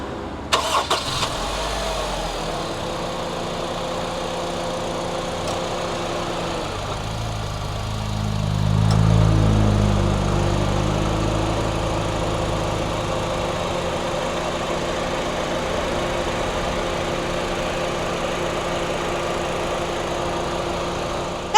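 A 2010 Honda CR-V 2.0E 4WD engine cranks and starts after a brief whir, revs up, then settles into a steady, low idle that continues.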